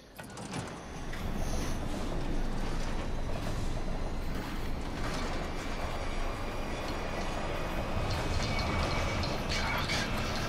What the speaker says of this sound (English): That train should not be running through gravel.